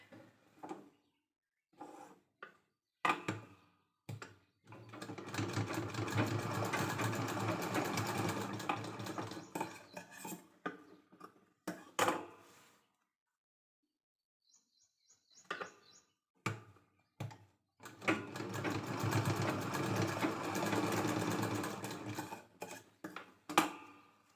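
A sewing machine topstitches the folded corners of a fabric bag strap sewn from leftover blouse cloth, running in two long steady bursts with short clicks, handling noises and pauses between them.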